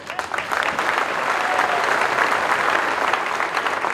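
Sustained applause from an audience at a civic celebration held in honour of the president of a Grand Council, dense and steady clapping throughout, loud and close, with no talk over it.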